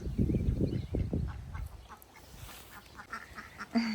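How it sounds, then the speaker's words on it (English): Backyard ducks, kept alongside chickens on a homestead garden on a warm May day, quack in a quick cluster of loud, close, raspy calls at the start, then fade to quieter scattered sounds and outdoor noise. "Chickens and ducks are having a good time today."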